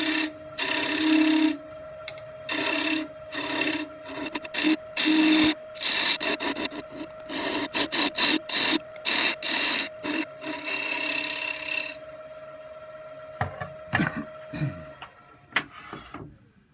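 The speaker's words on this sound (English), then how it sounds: "get a scraper in there and go up to the inside of those marks" A scraper cuts into the wood inside a small threaded trinket box, giving loud, rhythmic rasping strokes in bursts with short pauses, then quieter scraping toward the end.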